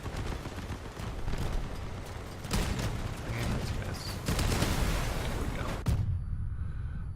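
Weapon fire from vehicles in the Crossout combat game, a dense rumbling barrage of gunfire and booms that rolls on continuously and loud before cutting off abruptly near the end.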